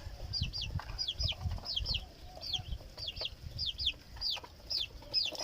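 Chickens clucking and chirping as they eat, in a steady, busy stream, several birds close by with soft low thuds underneath, no talking.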